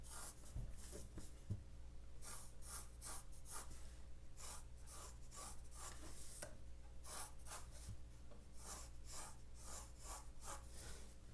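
Pen or pencil drawing a square on paper, heard as soft, faint rhythmic scratching strokes that repeat steadily over a low constant background hum, with no talking.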